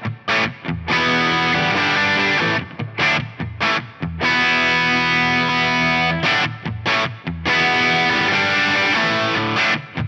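An electric guitar on its bridge pickup plays through a Sound Tank overdrive pedal, loud and crunchy, with sustained distorted chords broken by short muted gaps, played alone.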